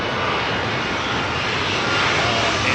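Aircraft arriving at London Heathrow Airport on a blustery evening, heard as a steady, loud engine roar that holds constant throughout, dense and broadband with no talk.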